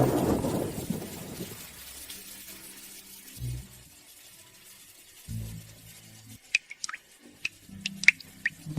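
Rainwater leaks through a house roof indoors: a few dull low thuds early on, then a sparse, irregular run of sharp drips close by in the last few seconds, in an otherwise quiet room.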